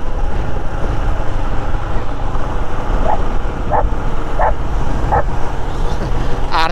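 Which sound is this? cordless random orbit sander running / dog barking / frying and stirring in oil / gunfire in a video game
dog barking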